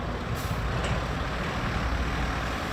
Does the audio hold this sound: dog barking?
no